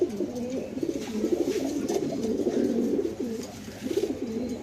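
A male and female silver pigeon coo close by in repeated soft, throaty rolling phrases, nearly continuous with brief pauses.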